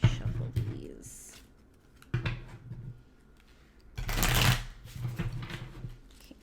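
A deck of cards is shuffled by hand in a few quick riffling bursts, close and crisp, with brief pauses and light handling noise between them.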